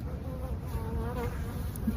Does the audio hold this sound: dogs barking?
no